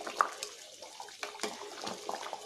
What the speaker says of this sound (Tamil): இப்போ குழம்பு நல்லா கொதிச்சிச்சு